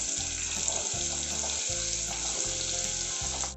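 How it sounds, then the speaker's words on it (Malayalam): Chopped onions for samosa filling fry in hot oil with a loud, steady sizzle, while a low rhythmic pulsing hum runs underneath. "ഇപ്പം എണ്ണ ചൂടായിട്ടുണ്ട്. ഇനി നമുക്ക് അതിലേക്ക് അരിഞ്ഞ് വെച്ചിട്ടുള്ള ഉള്ളി."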